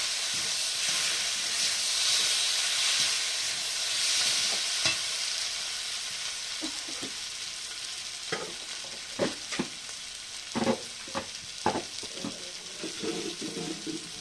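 Food frying in a little oil while being stirred, a steady hiss and sizzle at first, then a series of scraping, clattering stirring strokes over continued sizzling.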